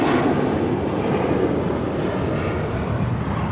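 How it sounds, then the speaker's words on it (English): A JetBlue Airways jet on departure from Los Angeles International Airport bound for JFK gives a loud, steady engine roar that fills the whole stretch without letup. "That is Menta Fresca departing to JFK with JetBlue Airways Flight 324"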